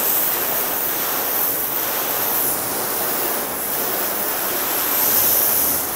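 A steady, dense hiss of water spray rinsing a car whose other section was treated with sealant, rushing continuously and close throughout with no talk.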